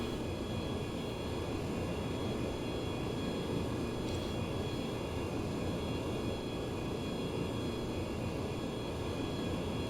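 Steady, droning aircraft engine noise from an F/A-18 in the IL-2 1946 flight simulator during carrier landing practice, continuous and unchanging throughout with no talk.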